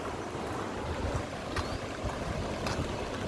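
A swollen, flooding river rushing past: a dense, loud, continuous roar of churning water with turbulent surges, heard up close with no voices.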